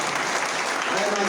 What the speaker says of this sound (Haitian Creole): Applaudissez pour nous dans le